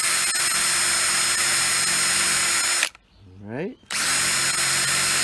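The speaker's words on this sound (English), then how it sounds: "And now we're gonna drill a little hole in the top of this thing." A power drill bores a small hole in the top of a pine stake for a homemade cucumber trellis, a loud continuous whine that cuts out briefly, spins back up and resumes, with a short spoken word.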